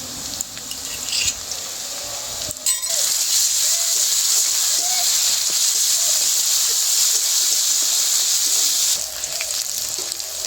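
Ginger-garlic paste hits hot oil over browned onions and whole spices for a Bengali jackfruit biryani, giving a loud continuous sizzle with a brief clatter early on, and no voices.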